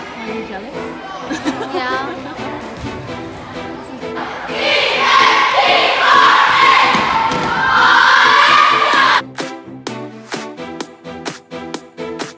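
A crowd cheers at a basketball game: indoor chatter and scattered noise swell into a sustained, loud roar of cheering for several seconds, then drop off into sharp, rhythmic thuds and squeaks from the court.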